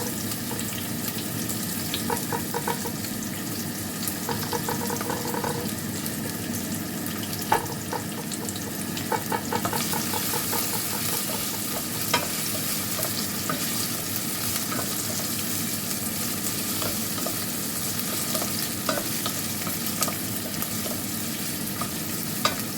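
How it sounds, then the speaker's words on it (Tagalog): Ginger frying and sizzling in a pan while a utensil stirs it, a steady close sizzle with intermittent scraping clinks of stirring throughout, no talking. "Tayo lang natin medyo maluto-luto ang luya."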